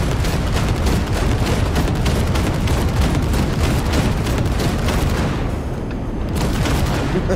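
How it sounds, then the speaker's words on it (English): Dense, nonstop explosions and gunfire from combat in the video game Cyberpunk 2077 on Xbox One, loud and close, with overlapping blasts and shots rolling together into a continuous barrage with no speech. "Sitting here blowing stuff up."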